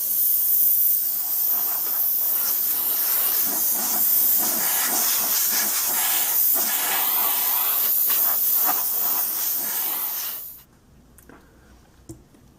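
Steady airbrush hiss as a very light tan, near-white coat is sprayed over a 1/35 scale Tamiya M1A2 Abrams tank model, continuous and close for about ten seconds before cutting off to near silence.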